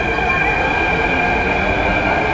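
Metro train at a station, a loud continuous rumble of wheels and motors with a steady high whine, heard alone throughout.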